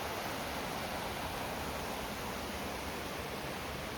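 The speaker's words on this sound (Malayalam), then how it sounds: "കൂട്ടാറ് പുഴ ഇങ്ങനെ ഒഴുകി വരുന്നുണ്ടോ" The Kuttar river in Idukki flowing, a steady, dense rush of water that stays at an even level throughout, heard close with no voices.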